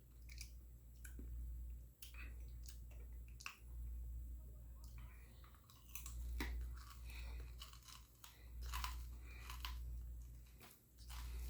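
Gum is chewed close to the mic with soft, wet clicks and smacks at an irregular pace over a steady low hum, while a voice speaks quietly now and then.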